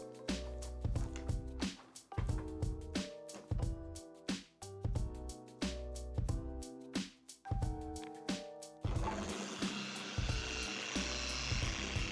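A handheld car paint polishing machine whines at a shifting pitch, with short bursts and pauses before running continuously with a louder, rougher hiss toward the end.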